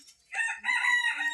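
A rooster crows once, close and loud, in a strained harmonic call among free-roaming village poultry, with a short cluck or bird sound just before it.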